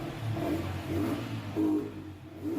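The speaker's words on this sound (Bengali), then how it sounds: "আপনারা দেখতেই পাচ্ছেন গাড়িটাকে রেস করা হচ্ছে বাঘের মতো শব্দ" A Yamaha R15 V3 motorcycle engine, just refitted after a throttle body cleaning, runs close by, rising in a few short revving bursts over a steady mid-pitched idle.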